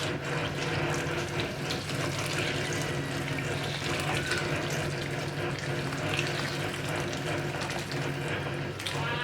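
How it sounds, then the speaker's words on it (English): Hot water poured from a kettle into a pot of Jamaican curried goat with meat and vegetables, a steady continuous pouring and sizzling wash that lasts the whole stretch, close and fairly loud with no talk. "I'm going to add some hot water to the pot now."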